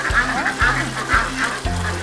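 Pekin ducks at an ornamental bird farm quack in a steady series of four loud, evenly spaced calls close by, while people talk over them.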